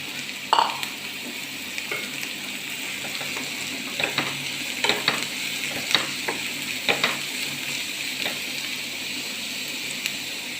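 Two small chopped onions fry in coconut oil in a pan, sizzling in a steady, close crackle. Intermittent scraping and knocking from a utensil stirring them rises above the sizzle.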